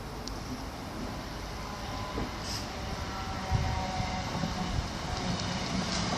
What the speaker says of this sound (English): Now arriving in the 2050 Northern Electric service from Preston to Liverpool Lime Street